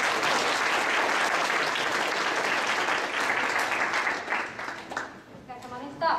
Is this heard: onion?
no